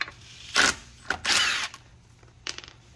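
Impact socket tool spinning bolts off a 1995 Audi UrS6 wagon: three short, loud whirring bursts with a brief rattle between them, close by and with no talking.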